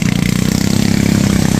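A wooden trawler boat's engine runs on a rocky river near Remakri, thumping in a loud, rapid, close-up chugging rhythm with clattering overtones.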